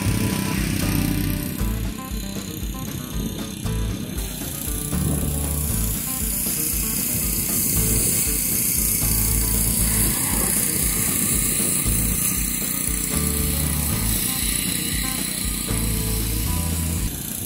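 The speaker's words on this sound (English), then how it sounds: "But we see with the power washer, the canvas becomes much cleaner very fast." Power washer spraying and cleaning a canvas, a continuous loud hissing rush with a droning pump motor running steadily throughout, close and without pause.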